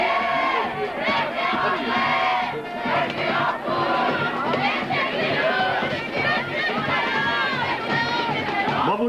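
A crowd of young people at a mi-carême carnival parade in Coëx, cheering, shouting and chanting loudly in a continuous, close mass of voices.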